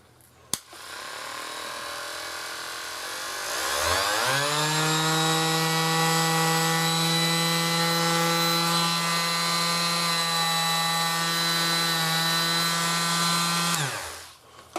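A Parkside PMFS 200 B2 3-in-1 multi-function sander spins up after a brief click, holding a steady, loud electric whine for about ten seconds before winding down and stopping, with no talk over it.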